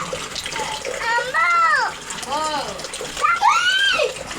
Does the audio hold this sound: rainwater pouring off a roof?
yes